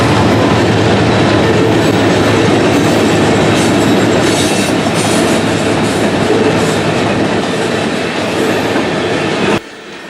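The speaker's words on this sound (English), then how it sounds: "we saw a westbound BNSF grain train, led by BNSF 8115 and 7805" Westbound BNSF grain train led by locomotives 8115 and 7805, with BNSF and ex-Burlington Northern grain cars and a rear DPU unit, rumbling past loud and close with steady clickety-clack of wheels, cutting off abruptly at the end.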